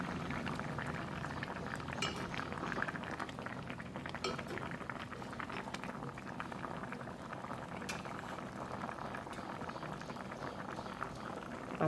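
Fish curry made with pond fish bubbles steadily in a pot, a continuous close boil with faint clinks of utensils now and then and no voices.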